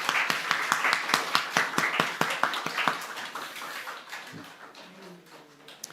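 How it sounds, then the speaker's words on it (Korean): Church congregation clapping in celebration for a pastor, a burst of sharp individual claps at first that thins out and fades, leaving a quieter room by the end. "박수로 축하해드리겠습니다"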